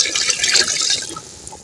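Water is poured into a pot of frying chicken and potatoes for a shorba, a close, bright splashing gush that sizzles and fills, gradually easing off as the pour settles.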